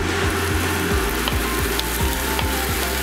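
Sliced canned corned beef sizzling with onions in a pan, a steady loud fry with repeated scraping and stirring strokes and no talking.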